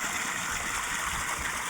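Irrigation water from two running motor pumps rushes into a field in a steady, even gush, with no pause or change.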